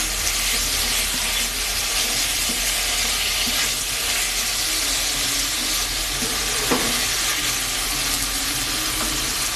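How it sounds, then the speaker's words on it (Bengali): Potatoes frying with spices in a pan for a Bengali prawn curry, a loud, dense and continuous sizzle with occasional stirring scrapes, no voices. "এবার ভালো করে মশলার সঙ্গে ভেজে তারপর দিয়ে দেব জল।"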